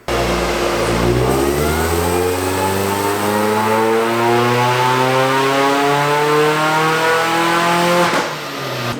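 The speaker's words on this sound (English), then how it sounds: "we're getting ready to dyno it now" A Mini Cooper R53 engine running on a dyno, loud and close, its whine climbing steadily in pitch as revs build, then dropping away sharply near the end.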